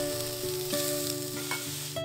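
Steak and fresh veggies sizzle on an Ooni oven, a continuous close crackling hiss with faint clinks of stirring and a low steady hum underneath.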